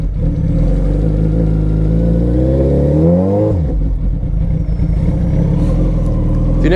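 A Suzuki Hayabusa motorcycle engine revs loud and close, climbing steeply in pitch, then dropping back and settling into a steady, throaty idle.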